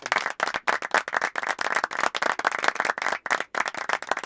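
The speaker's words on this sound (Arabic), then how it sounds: "صفقوا لآدم كثيراً على هذا الفيلم الرائع." An audience claps steadily for a boy named Adam after a short Islamic film about Adam and Iblis, the applause dense and sustained with brief dips and no talk over it.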